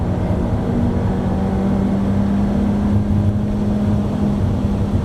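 Peugeot 308 GTi engine held at the rev limiter on the Braga race circuit, heard as a loud steady drone that runs unbroken through the whole stretch with no pauses.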